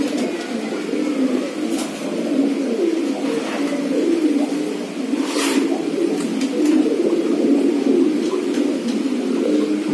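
A female Giribaj pigeon held in the hand gives low repeated coos, with a couple of short bursts of wing fluttering, close and fairly loud.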